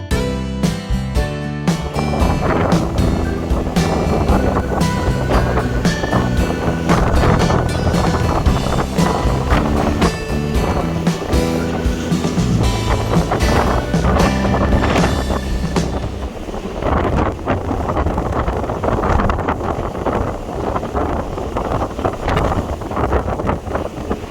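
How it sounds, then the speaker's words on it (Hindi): Rushing sea waves and wind surge steadily around a Color Line cruise ship at night on the crossing from Norway to Germany, a loud continuous roar that fills the clip without pause. "ये जी लहरें देखें जो इतनी उठ उठ कर आ रही हैं"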